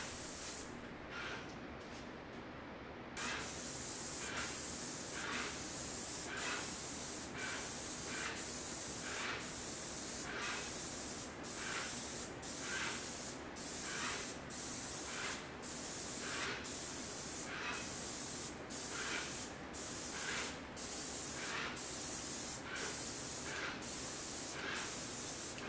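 Steady rapid bursts of aerosol spray paint on a mid-century Kent Coffey dresser, each a short hissing puff repeated at an even rhythm, close and loud with no talking.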